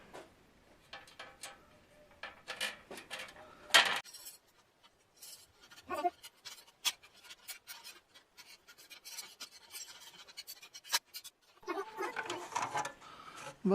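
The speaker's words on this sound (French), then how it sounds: "Et maintenant, il n'y a plus qu'à visser." Scraping and rasping of metal parts while a nut is screwed on during the making of a shield, in short bursts of twists and grinds with quiet pauses between, close by and fairly faint.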